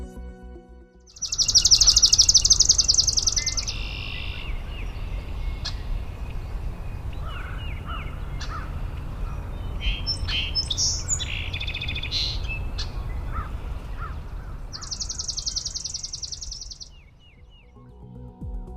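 Several birds sing and chirp together outdoors, with bright high trills and tweets over a steady low background rumble, one loud burst of song near the start and another phrase returning near the end.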